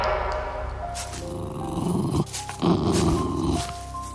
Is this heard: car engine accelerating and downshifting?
no